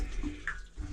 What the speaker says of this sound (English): And look, running freaking water in here.